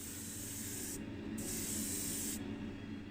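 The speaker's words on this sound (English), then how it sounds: "as I'm playing with my airbrush there, I was getting a little bit of splatter" An airbrush sprays paint onto a Matchbox No 38 Vauxhall Victor model car being restored, giving a steady close hiss with high-pitched bursts that start and stop twice.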